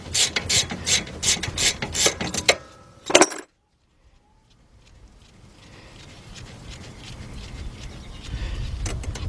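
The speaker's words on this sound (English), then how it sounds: "let's take these bolts out of here, 12mm bolts" A hand ratchet clicks out the 12mm bolts on the rear brake caliper of a 2007 Honda Accord, with fast bursts of close, sharp pawl clicks, then a brief pause and quieter low handling noise afterward.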